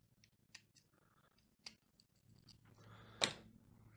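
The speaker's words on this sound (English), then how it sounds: "And then you get the braid and just cut that off." Several faint snips of scissors cutting braided fishing line, spaced irregularly, followed by one sharper, louder cut near the end.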